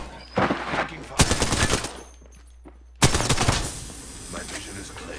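Rapid automatic gunfire in Apex Legends, loud and close, coming in two dense bursts with a brief lull between them, while a voice speaks over part of it.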